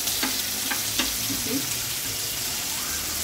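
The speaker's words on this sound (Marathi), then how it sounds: "आपण कोळंबी घातलेली आहे फ्रायला" Steady sizzling of prawns frying in a hot pan, with a few soft clicks as they are stirred or turned, no talking.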